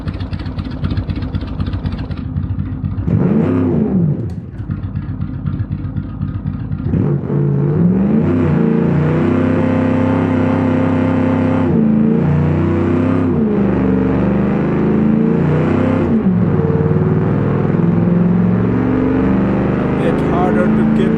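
A land speed challenge car's engine revs at low RPM while its wheels spin for grip, a loud, sustained roar that rises and falls in surges, with music playing underneath.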